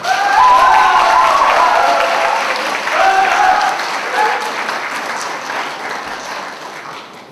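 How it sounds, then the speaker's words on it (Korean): Sustained audience applause fills a hall at a Pyeongtaek city public officials' presentation event, loud and steady before tapering off gradually, with faint voices blended into the clapping. "큰 박수 주시기 바랍니다."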